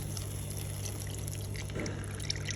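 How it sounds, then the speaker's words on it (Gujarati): Milk poured from a cup into a pan of sweet corn halwa, a soft steady liquid pour running close up with a faint hum underneath and no talking. "હવે આપણે આમાં 1 કપ દૂધ નાખશું।"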